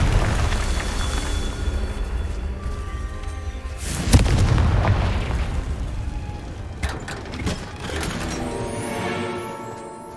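The Confringo fire spell in Hogwarts Legacy bursts in a sharp, loud explosive boom midway, set among ongoing rumbling game effects and combat noise, with a few smaller crackling hits later.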